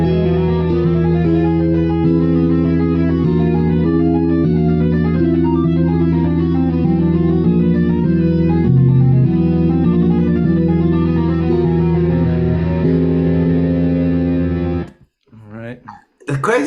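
A guitar étude played through effects, with a continuous flowing line of smooth, legato notes wrapped in distortion and reverb; it is loud and sustained, then stops abruptly near the end as faint handling sounds follow.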